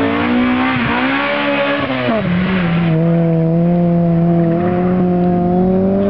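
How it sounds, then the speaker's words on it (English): A Chevrolet Corvette accelerates on an SCCA autocross course at RIT, its engine note loud and close, with a rising then dropping pitch at a gear change followed by a sustained, steady drone under hard throttle. "that Corvette really did a damn good run"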